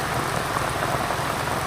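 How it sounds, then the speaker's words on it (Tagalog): Heavy rain pouring steadily onto surfaces near a house in a rural village, a dense continuous hiss with no voices. "Ayan po, lakas ng ulan."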